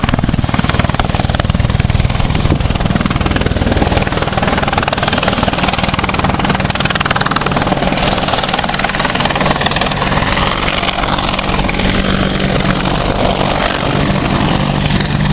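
An Apache helicopter hovers close by: a loud, steady, rumbling rotor-and-engine roar that holds level throughout with no voices.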